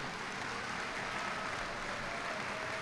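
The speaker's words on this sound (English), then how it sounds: "let's give a round of applause for the Bishop Noll class of 72" Continuous applause from a crowd at a high school commencement ceremony, a dense steady wash of clapping that holds at an even level from start to finish.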